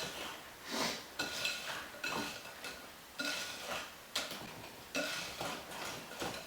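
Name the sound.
whisk folding sugar into brownie batter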